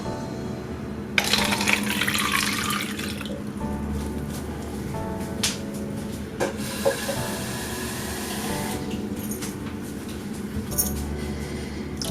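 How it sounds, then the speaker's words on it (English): Water poured into small containers holding Java plum plants, with splashing bursts and trickles, a few knocks and clinks of the containers, and quiet pauses between pours, all close up. "All right, let's pour some water."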